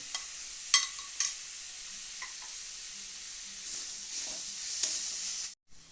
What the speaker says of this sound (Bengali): আদা বাটা দিয়ে দেখছেন একটু নেড়ে চেড়ে তারপরে দিলাম কেটে রাখা গুলো